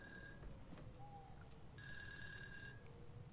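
A telephone rings in the horror game Unforgiving - A Northern Hymn, giving two bursts of electronic bell ringing separated by a pause, faint and heard alone over a low background hum.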